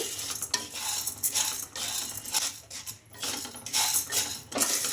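Steady scraping and clinking of a utensil stirring ingredients in a pan over low sizzling, with repeated strokes throughout and no voices.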